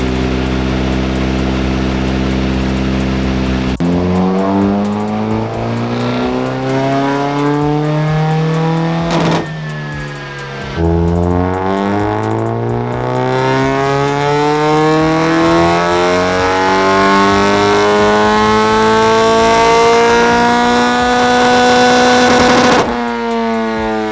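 A K-swapped Honda DC2 with a lumpy cam sits at idle, then is blipped to a rev that rises and falls before dropping straight back to the uneven, choppy idle. The engine is loud and close, with no talk over it.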